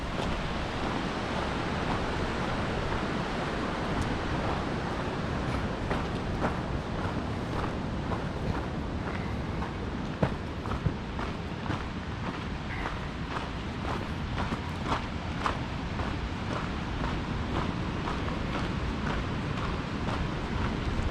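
Cooper River flowing near a trail in the Alpine Lakes Wilderness, a steady broadband rush of water with no breaks, fairly close and alone, blended with some wind noise across the whole stretch.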